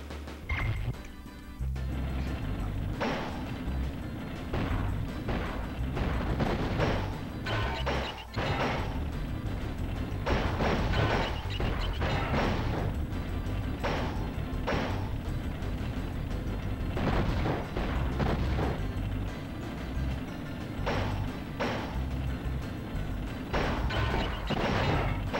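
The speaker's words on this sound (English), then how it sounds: "Can I please shoot the SpongeBobs with my cannon?" A cannon fires repeatedly in the Spyro 2: Ripto's Rage video game, with loud booms and crashes recurring in quick succession over dense, continuous game noise and music.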